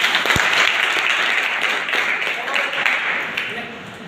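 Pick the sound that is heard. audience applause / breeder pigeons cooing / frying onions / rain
audience applause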